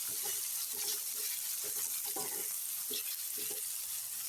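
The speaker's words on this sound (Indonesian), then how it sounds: "Kita akan aduk-aduk terlebih dahulu supaya bumbunya tercampur rata pemirsa" Chicken pieces are stirred into a spice paste in a pan while cooking chicken for mie ayam, with a steady close sizzle and repeated soft scraping knocks of the spoon at irregular intervals, without talk.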